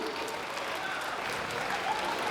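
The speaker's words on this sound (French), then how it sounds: "On l'applaudit!" Dense, steady applause from a cosplay show audience at a manga convention, a continuous wash of many clapping hands throughout with crowd murmur beneath.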